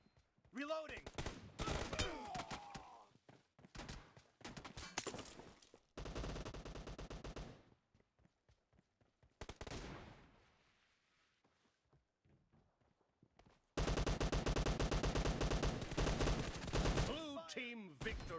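Automatic gunfire from a PUBG battle comes in loud, rapid bursts separated by short gaps, with a long sustained volley near the end and game voice callouts between shots.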